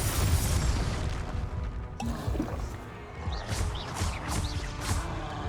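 Fiery Confringo spell blasts in the Hogwarts Legacy video game, a run of several sharp bursts with crackling tails over a constant low rumble of game combat.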